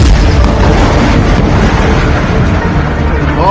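Sustained, heavy rumbling and booming from bombing in Lebanon in news footage, a loud, dense wash of blasts and low roar continuing throughout.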